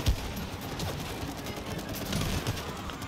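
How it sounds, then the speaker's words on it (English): Rapid video game gunfire from It Takes Two rattles on continuously for about three seconds, with dense overlapping shots at a steady, fairly loud level. "Keep shooting, keep shooting, keep shooting."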